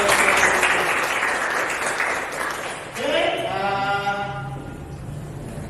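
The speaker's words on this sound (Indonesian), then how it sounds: "Tepuk tangan untuk Rizky Ramdhani." A lecture audience applauds a student who answered a question correctly in a university class; dense clapping fills the room for several seconds, with someone speaking briefly over it as it fades.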